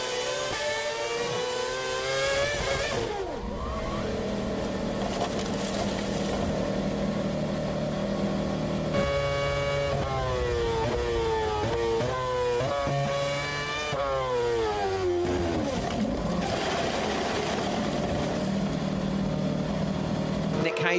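A Williams Formula 1 car at the Chinese Grand Prix, heard onboard, screams at high revs through repeated upshifts and downshifts with rising and falling engine pitch under braking and acceleration, loud and close, with commentary voices over it.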